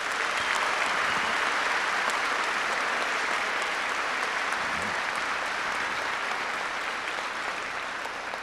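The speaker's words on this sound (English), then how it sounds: "let's give them a round of applause" Dense applause fills the room at a New York gala honoring service members, a sustained roar of clapping from a large audience that stays even throughout and eases slightly toward the end.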